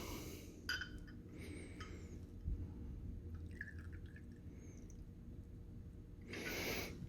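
Pineapple rum pours from an antique bottle for a pineapple upside-down cake cocktail shot, giving a soft liquid trickle with small drips and a brief splashy burst near the end.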